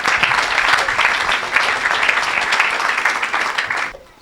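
Audience applause fills a church during a French-language evangelical service, dense steady clapping that holds loud for about four seconds and then cuts off abruptly.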